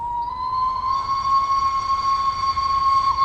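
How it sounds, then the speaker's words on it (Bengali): A train approaches in a night-time village ghost story, heard as a steady loud horn-like tone with bright overtones over a low rumbling drone that swells slightly over a few seconds. "হঠাৎ পিছন থেকে একটা ট্রেন আসার শব্দ পেয়ে"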